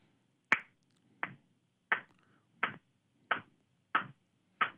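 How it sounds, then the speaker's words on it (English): A steady beat of seven evenly spaced sharp claps or snaps, about one every two-thirds of a second, close and clear against quiet, with no talking, set at a walking pace. "You're going to clap your hands to what we call the steady beat."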